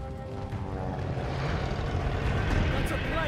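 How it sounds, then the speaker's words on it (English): An airplane passes overhead in the Call of Duty Vanguard video game as a droning engine that grows steadily louder over a few seconds, with voices nearby. "That's a plane!"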